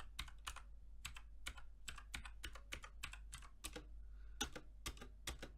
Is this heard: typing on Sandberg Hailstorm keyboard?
yes